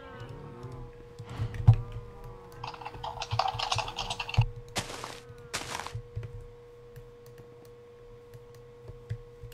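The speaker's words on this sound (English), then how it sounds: "you could hear his keyboard smashing" Computer keyboard typed on hard and fast, sharp clacking keystrokes in irregular bursts with a few heavy thunks, close and fairly loud over a faint steady hum.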